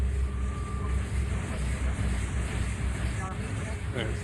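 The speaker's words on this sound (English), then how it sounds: "Since you guys are going outside, I'm gonna turn on the other engine noise." A steady low engine drone plays as background ambience for a tabletop game session, constant and rumbling with a faint wind-like hiss throughout.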